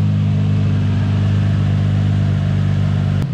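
A Nissan 350Z with a VQ35DE V6, fitted with an oil cooler and undershroud, idles while warming up. It gives a close, loud, steady low hum with a smooth, even pulse and no voices.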